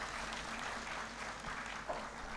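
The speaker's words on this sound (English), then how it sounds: "Round of applause to the cultural troupe." A crowd at a memorial lecture applauds a cultural troupe with steady, sustained clapping that stays moderately distant and fairly quiet throughout, with no voices standing out.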